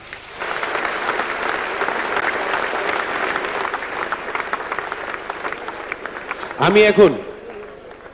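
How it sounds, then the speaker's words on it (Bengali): Loud, sustained audience applause fills a 2009 corporate celebration event, a dense steady roar of many hands that swells briefly near the end with a cheer or shout rising above the clapping. "সবগুলো পিএইচডির জন্য একটা চমৎকার করতালি আশা করছি"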